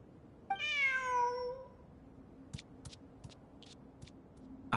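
A cat in the video game Genshin Impact gives one clear, drawn-out meow up close, followed by a few faint ticking clicks in a quiet scene without talk.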